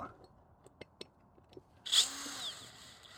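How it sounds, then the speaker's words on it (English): Power drill tightening bolts during Airstream trailer maintenance, a few light clicks and taps, then a short close whirring burst that winds down, with no talk. "Let's completely tighten those up."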